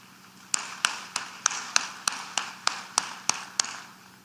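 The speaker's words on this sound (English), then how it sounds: "I think they deserve a better round of applause." An audience gives a round of applause during a presidential speech at an African Development Bank annual meeting. About a dozen sharp, evenly spaced claps ring out in a slow, steady beat, fairly close and clear.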